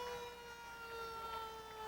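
Old-style fire truck siren in a street parade at the Calgary Stampede, a steady sustained wail held at a constant pitch, fairly faint and distant throughout.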